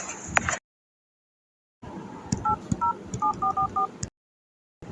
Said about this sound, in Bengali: আমি এক্ষুনি বাবাকে ফোন করছি।